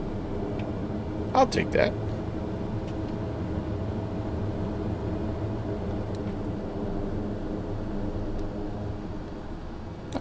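Pilatus PC-12 turboprop in a flight simulator landing with thrust reversers engaged, a steady mid-volume engine roar and hum throughout while someone talks briefly.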